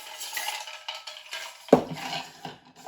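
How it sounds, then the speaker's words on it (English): A bar spoon stirring a Manhattan cocktail over ice, light clinking and swirling in a mixing glass with one sharper knock midway, close and quiet. "you just got to keep stirring it for a while"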